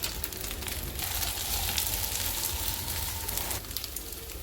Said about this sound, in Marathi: आता नेक्स्ट साईडने आपण याला पलटून परत फ्राय करून घेत आहोत 2 मिनटासाठी